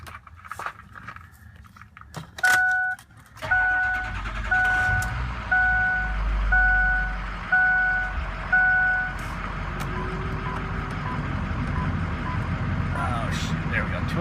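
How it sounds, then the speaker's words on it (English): A 2006 Ford F250 diesel pickup cranks and settles into a steady low idle rumble, with a series of evenly spaced electronic chime beeps sounding over it early on. "I'm going to start this truck up now."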